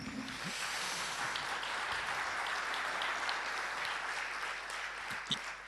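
A room full of conference attendees applauds steadily for several seconds, a dense even patter of clapping that tapers slightly at the end.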